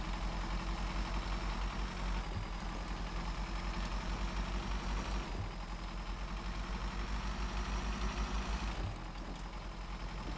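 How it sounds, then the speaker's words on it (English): A truck engine in the Snowrunner game runs steadily with a thin, high-pitched, tinny drone, a continuous close hum with slight shifts but no pauses. "It still sounds like it's quite tinny, quite a high-pitched engine."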